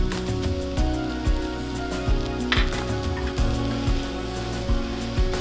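Vegetables with parsley, basil and dried oregano sauté in a pan with a steady, close sizzle like light rain, broken by regular scraping strokes of a utensil across the pan bottom.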